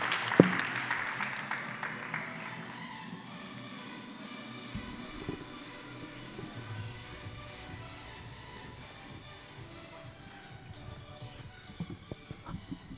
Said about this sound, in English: please join me with a round of applause as we welcome our two speakers for today, Professor Datuk Dr. Adeeba and Samuel